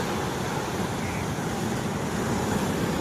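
Surf from the sea rolls in and breaks on a beach with the tide pushed far up the sand, a loud continuous rushing wash with wind noise across the microphone and no voices.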